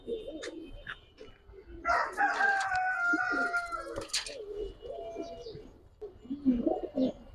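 Giribaz and coloring pigeons, including a club-tagged hen, coo steadily and close by at a pigeon sale, with layered overlapping calls and a few sharper, crowing-like cries rising through the middle of the stretch.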